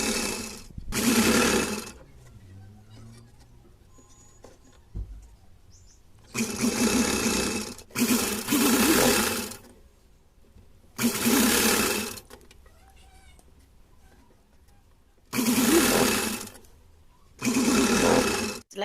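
A sewing machine stitches folded fabric strips for a small festive doll's dress in repeated bursts of loud rapid whirring of a second or two each, with quiet pauses between runs.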